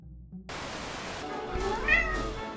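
A cat meows once, a short rising-and-falling cry heard close and fairly loud over a steady hiss of background noise.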